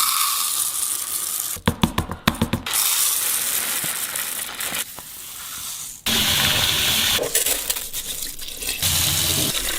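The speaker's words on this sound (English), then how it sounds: "Washing the starch off, do that with any rice you can." Rice is washed under running water from a tap to rinse off starch: a steady loud gush of water is broken by bursts of rattling and splashing as the grains are stirred.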